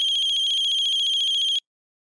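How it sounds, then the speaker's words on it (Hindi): Mobile phone ringtone: a steady, loud electronic warble that pulses rapidly and evenly for about one and a half seconds, then stops abruptly. The ring plays alone, with no voices. "आपका फोन क्यों बज रहा है?"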